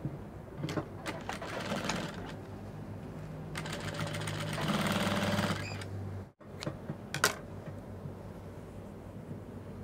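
A sewing machine stitches bias binding onto the back neckline of a cowl neck dress, running in steady bursts that speed up and grow louder midway, then stop abruptly, with a few light clicks and handling noises afterward.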